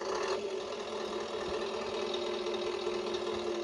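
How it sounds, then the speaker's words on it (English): A Tamiya Scania 770S 8x4 heavy hauler RC truck fitted with a Beier SFR 1 sound system starts up. It settles into a steady, loud, continuous simulated engine drone with no pauses. "So if I just start the engine"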